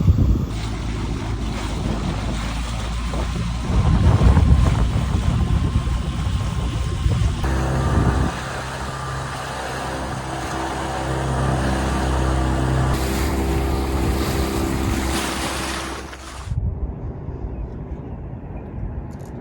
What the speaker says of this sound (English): We're just chilling, we're just cruising, motor sailing.